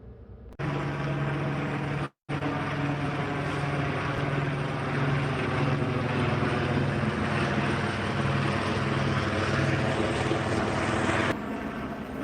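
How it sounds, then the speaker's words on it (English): Steady low rotor drone of a police helicopter at the end of a high-speed chase, continuous and fairly loud, with a brief dropout near the start and no voices. "They got the helicopter out chasing somebody."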